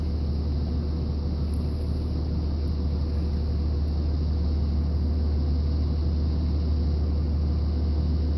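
A 3rd-gen Cummins diesel truck with a 48RE automatic in limp mode pulls away from a stop in second gear, giving a steady, heavy low engine rumble and drone throughout with no talking.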